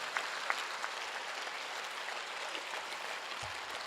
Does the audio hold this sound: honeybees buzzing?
no